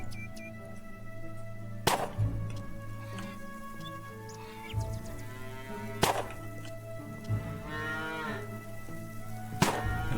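Cows in the farming game Farmer's Dynasty moo repeatedly at a barn, several long lowing calls spaced a few seconds apart over a steady low background hum, fairly close and clear.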